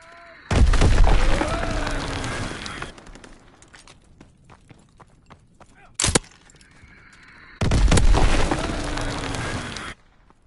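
Two loud, sustained blasts of bomb explosions in Call of Duty WWII, each roaring for about two seconds with a sharp crack between them, set against faint battlefield ambience.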